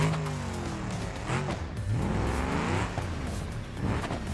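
A truck engine in the driving game BeamNG revs loudly and close, its pitch climbing and falling in several sweeping surges, with a brief dip before it pulls up again.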